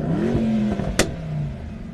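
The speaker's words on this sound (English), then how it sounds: "rev up that Merc." A Mercedes-AMG E63 S engine revs close by, a rising then falling throaty tone with a sharp pop at the top, settling back to a lower rumble.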